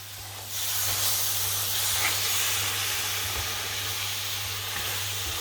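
Chopped tomato with a spoonful of tomato paste hitting hot oil in a pan of Durban tinned fish curry, bursting into a loud, steady sizzle and hiss that carries on close by throughout, with no talking.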